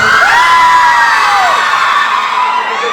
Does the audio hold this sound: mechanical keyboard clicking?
no